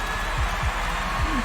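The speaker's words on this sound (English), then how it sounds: "Can you hear your heartbeat, Lucas?" A deep, throbbing heartbeat from The Stanley Parable: Ultra Deluxe thumps in a slow irregular rhythm over a steady low hum, loud and close.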